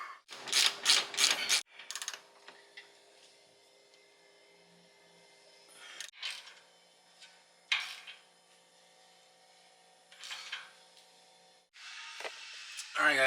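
Ratchet wrench clicking in short bursts while torquing suspension bolts back in place on a BMW, several separate ratcheting spells with quiet gaps between them, close up in a workshop.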